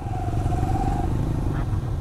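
Motorcycle riding on the road from Dera Ghazi Khan toward Fort Munro, its engine a steady low drone close by with a faint whistle-like tone above it in the first half.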